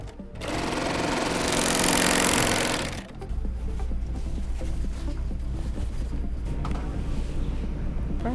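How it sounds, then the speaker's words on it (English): A serger overlock sewing machine stitches fabric for a tote bag, a fast, loud whirring run for about three seconds that stops abruptly, followed by a lower steady hum and faint clicks nearby. "Back to the serger."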